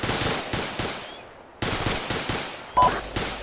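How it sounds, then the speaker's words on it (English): Automatic and rifle gunfire from a military combat game, ArmA 2, laying down suppressive fire at a tree line: sharp repeated bursts and single shots with echoing tails, fairly close, some louder cracks near the end. "Section, suppressive fire, enemy, tree line, front."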